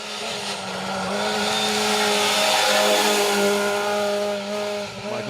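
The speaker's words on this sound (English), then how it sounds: "Nice big jump from the pair in the 1600 Fiesta." A 1600 Ford Fiesta rally car on a Welsh forest stage engine note climbs in a long sustained loud rev, holding steady before dropping off sharply near the end as the car lands from a jump.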